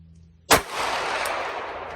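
A single sharp gunshot from a gun fitted with a red dot sight cracks out loudly, followed by a long, fading echo rolling away outdoors.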